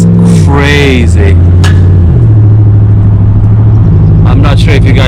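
Loud, close exhaust note of a Ram 1500 pickup with a Totalflow exhaust on the road: a rising rev at the start drops into a steady, deep cruising drone, with a voice heard briefly over it.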